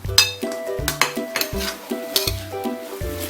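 Long beans stir-fried with pork and red curry paste in a pan, a spatula scraping and clanking against metal in quick repeated strokes over a constant sizzle, close and loud without talk.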